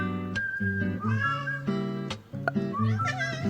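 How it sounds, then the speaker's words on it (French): A house cat meows close by, a few drawn-out, wavering cries in a quiet room with no talk. "Oh, y'a mon chat!"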